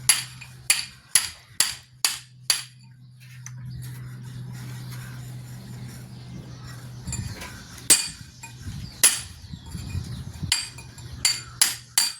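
Sharp hand-hammer blows ring out on the hard masonry of a house in Marunji, near Hinjewadi, Pune, a quick regular run of strikes first, then scattered irregular hits over a low steady hum.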